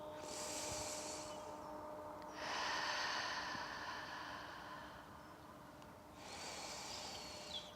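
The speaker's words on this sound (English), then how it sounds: "Long, deep belly breathing." Long, deep belly breathing during a neck-tension relief exercise: slow, audible breaths close to the microphone, a drawn-out inhale and exhale repeating in an even rhythm with soft airy texture and no talking.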